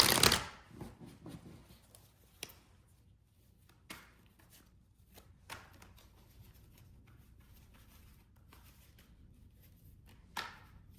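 Tarot cards are riffled and tapped in short bursts, quiet shuffling sounds with sharp snaps and pauses between, close by in a still room.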